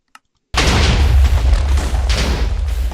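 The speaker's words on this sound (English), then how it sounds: "Nope, the explosions are still a little bit too loud for myself." A single short click is followed by a sudden loud booming roar of explosions in a modded Minecraft survival game, sustained and rumbling to the end with slight surges.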